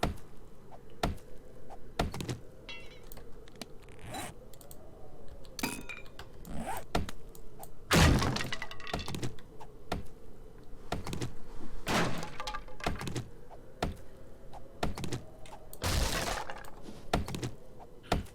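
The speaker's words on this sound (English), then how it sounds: "all the building materials, you can go through them with a shovel" A shovel striking and breaking building materials in 7 Days to Die, with repeated sharp cracks and thunks at irregular intervals and a few louder smashes over a low steady hum.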